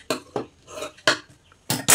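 Fabric is trimmed with scissors while a sleeve is being made: a series of short, crisp snips, close and fairly loud, spaced irregularly with quiet gaps between.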